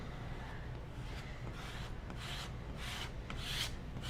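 A scraper drags wet paint across a wooden sign in several slow, rasping strokes, close and fairly quiet, with no talking.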